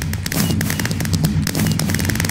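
Minecraft firework rockets bursting in a rapid, continuous barrage from a huge New Year display, loud overlapping pops and crackles with no pause and no voices.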